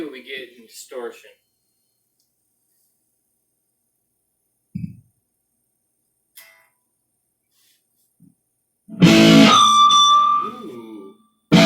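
A 1984 Ibanez Roadstar II electric guitar with distortion rings out in one loud, sustained chord lasting about two seconds. It follows brief speech and long quiet gaps with a few small knocks.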